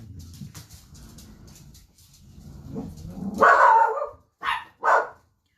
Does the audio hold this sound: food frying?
no